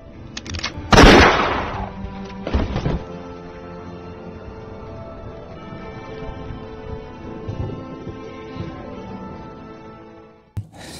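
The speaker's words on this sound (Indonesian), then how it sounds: "Namun, James melepaskan tembakan" Gunshots in an action film scene: a loud close burst of fire followed by another sharp shot a moment later, then a long quieter stretch of tense background score and a final abrupt crack.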